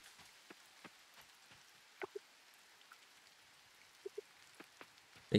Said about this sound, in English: It is rainy today.